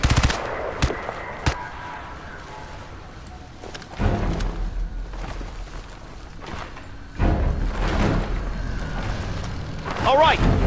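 Bursts of automatic and single-shot gunfire from Crysis 3 Remastered crack out in clusters, with loud volleys returning after quieter gaps and game voices calling out over the combat.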